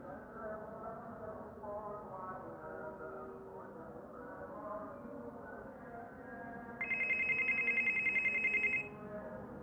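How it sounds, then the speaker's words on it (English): A WhatsApp call rings on an old Android phone, a steady electronic tone that rises clearly above a constant background hum for about two seconds before stopping. "when I quit my WhatsApp on my primary phone, the application will stop ringing"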